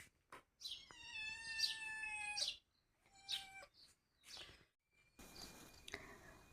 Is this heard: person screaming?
no